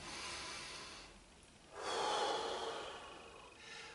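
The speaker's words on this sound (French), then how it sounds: "c'est le mouvement de respiration de stress, où la respiration se trouve au niveau des poumons" Deliberate stress-style breathing from a qigong demonstration, air drawn high into the chest: a soft breathy exhale, a pause, then a louder, rushing inhalation through the nose with a faint snort, trailing into a quieter breath, close and alone with no talk.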